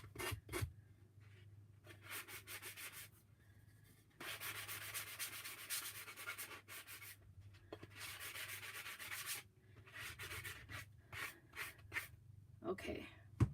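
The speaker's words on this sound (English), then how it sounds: "the quality in their sanding blocks are not as good as they were before" Repeated sanding strokes of a sanding block rubbing over a wooden fall pumpkin decoration, rough rhythmic rasping in bursts with short pauses, close and moderately loud, with a low steady hum beneath.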